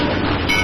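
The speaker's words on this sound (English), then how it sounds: "Or the train was going to catch Buster." Train rumble from an old silent-era Buster Keaton film, The Blacksmith, a brief steady clattering roar heard close and loud.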